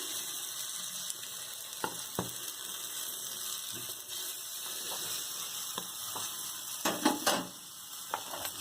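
Masala-marinated eggs lie face-down toasting in a pan for a tandoori-style roast, giving a steady, moderate sizzle with a few scattered clicks and scrapes and no voices.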